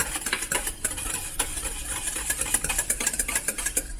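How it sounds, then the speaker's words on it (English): A whisk beats yeast mixture in a bowl, making a steady, close run of quick metallic clicks and scraping against the bowl. "Whisk this together and let it foam up."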